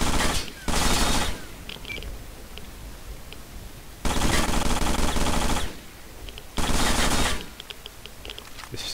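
Automatic gunfire from a weapon in the game STALKER, three long, loud, sustained bursts separated by pauses, with faint clinks and background noise between them.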